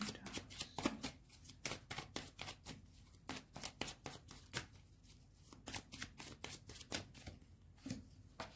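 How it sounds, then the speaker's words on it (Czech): Tarot cards are shuffled and drawn with a steady stream of quick, crisp card flicks and taps, close to the listener but soft in level, and nobody speaks. "Tak, ještě si vytáhnu jedny karty."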